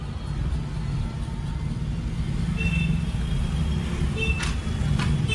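Road traffic moving fast from both sides on an uphill road, heard as a steady, continuous low engine and tyre rumble with no distinct single pass-by standing out.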